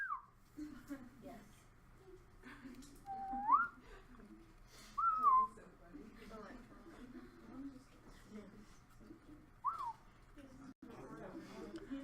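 Students in a biology classroom whistle short, scattered rising and falling notes in a Morse-code-like pattern, several separate whistles spread across the stretch amid murmuring chatter and background talk.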